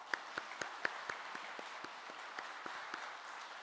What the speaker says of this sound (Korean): 은혜스러운 찬양으로 우리 은혜 끼쳐준 이 찬양대 위에서 이번에 박수하겠습니다.